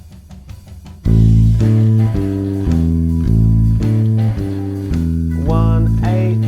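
A blues bass line in a descending pattern of root, octave, seventh and fifth plays loud and clean on bass, in steady repeated four-note cycles that shift up for a second pass near the end, with no talk.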